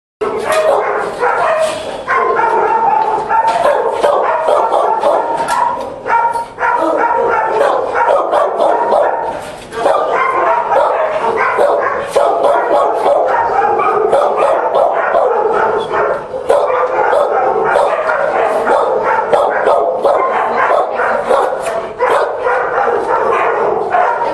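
A fearful dog barks and yips repeatedly and loudly at close range in a busy run of sharp barks with short pauses, with human voices mixed in beneath.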